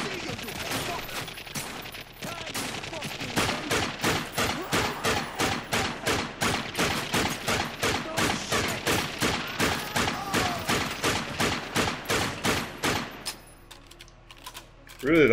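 Rapid gunfire from The Darkness, a long evenly spaced string of loud sharp shots lasting about ten seconds, then stopping abruptly into quieter game ambience.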